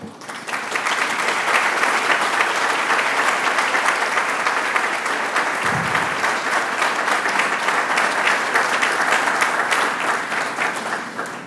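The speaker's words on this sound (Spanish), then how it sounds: "don Álvaro Burgos, a quien por favor les pido un aplauso" An audience at a lawyers' award ceremony applauds, dense loud clapping that starts almost at once and holds steady for over ten seconds before easing slightly at the end.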